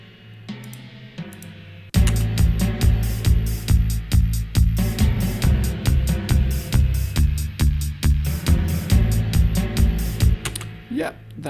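Timpani patch on a Korg M1 synthesizer playing deep, booming drum hits in a steady rhythm over a layered synth backing, loud and close, with no talking.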